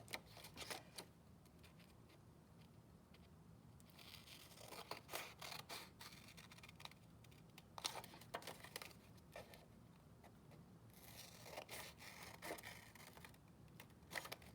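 Scissors snip along the fold of a sheet of paper, giving a close, quiet run of crisp cuts and short rustles that repeat in irregular bursts.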